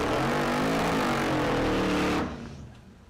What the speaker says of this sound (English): Here's Cameron Thorpe, the Volvo wagon. It's louder than you think, watch. Supercharged LS.